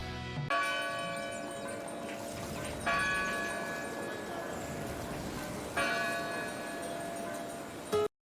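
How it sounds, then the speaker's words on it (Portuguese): A church bell tolls three times, each strike ringing out with a long bright decay, opening a song at moderate volume with no voices. "Esse sino já é um início muito dramático da canção."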